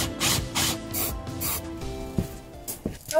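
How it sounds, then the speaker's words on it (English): A hand file rasps across metal hole edges in a van build, with several loud rhythmic back-and-forth strokes close by, followed by a few lighter scrapes and knocks. "I'm gonna file it and then I'm gonna spray it with Rust-Oleum."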